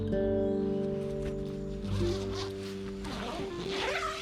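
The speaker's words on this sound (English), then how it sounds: "The inner mesh wall can be opened similarly with the zips." A zip slides along the inner mesh wall of a single-skin tent, a close, steady rasping that continues for several seconds under a low tonal hum.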